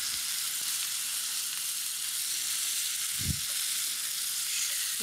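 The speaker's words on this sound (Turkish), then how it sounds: "Şöyle karıştırıyoruz." Rice pilaf sizzles steadily in a hot pan as it is stirred, with a broad continuous frying hiss and one brief low scrape of the spoon near the middle.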